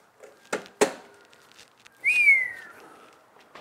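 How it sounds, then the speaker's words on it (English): One person whistles a single rising then falling note in a woodworking shop, close and clear, after a few sharp knocks from handling a DeWALT planer. "The whistle of approval."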